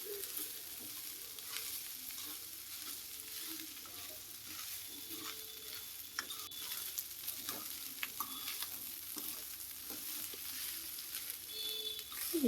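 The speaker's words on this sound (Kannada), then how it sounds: "ಈ ಥರ ಎಲ್ಲ ಪೂರ್ತಿ ಕಲಿಸ್ಕೊಂಡು ಅನ್ನ ಗಂಟು ಇದ್ರೆ ಅದನ್ನೆಲ್ಲ ಹಿಂಗೆ ಸ್ಮ್ಯಾಶ್ ಮಾಡ್ಕೊಂಡು ಫುಲ್ ಚೆನ್ನಾಗಿ ಕಲಿಸ್ಕೋಬೇಕು ರೀ" Cooked rice is stirred and mashed in a frying pan while making chitranna, steady sizzling with repeated scraping and tapping strokes of the spatula, close and fairly quiet, with no speech.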